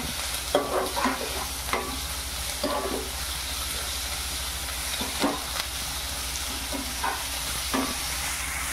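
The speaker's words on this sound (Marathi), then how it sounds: "हे आता चांगलं शिजू द्यायचं कांदा सगळा" Chopped onion with ginger, garlic and green chili paste frying in a pan, a steady hiss of sizzling oil broken by periodic scraping stirs of a spatula, close and fairly loud.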